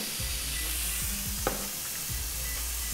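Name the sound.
food sizzling in a pan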